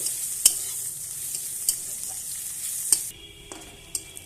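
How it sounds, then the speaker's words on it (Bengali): Garlic and dried red chilies fry in oil, giving a steady bright sizzle with a few sharp utensil taps near the start and middle; the sizzle drops suddenly near the end, leaving a quieter hiss and a couple of light clicks. "এই তেলে দিয়ে দেবো রসুন আর শুকনো লঙ্কা। একটু লাল করে ভেজে নেব।"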